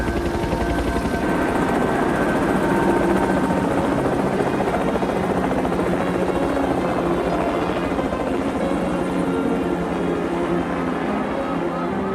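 A helicopter flies near a rescue site, its dense rotor and engine roar loud and continuous throughout, steady with no pauses.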